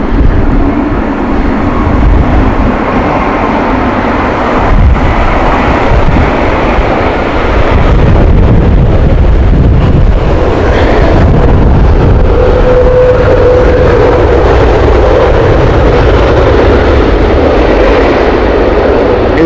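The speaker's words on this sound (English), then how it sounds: "It is also very windy." Loud, constant wind buffeting a microphone outdoors at Heathrow Airport, a dense low rumble with roaring gusts and faint distant aircraft noise underneath.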